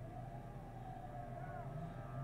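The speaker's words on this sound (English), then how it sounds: "While I'm speaking to you now, we can still hear the ambulances" Ambulance sirens arriving at Shuhada Al-Aqsa Hospital in Deir al-Balah, Gaza, a faint, distant wailing tone that rises and falls over a low, steady background hum.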